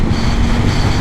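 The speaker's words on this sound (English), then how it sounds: "today is a bad day to test ride a bike because that wind is certainly strong today" Strong gusty wind buffeting the microphone during a test ride of a Triumph 900 Rally motorcycle, a steady broadband roar with low rumble filling the whole second, no speech.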